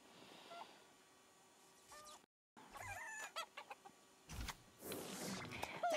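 Chickens cluck and a rooster crows in a strategy video game with catapults and a chicken coop, short clucks and squawks over quiet game sounds and electronic beeps, no talk.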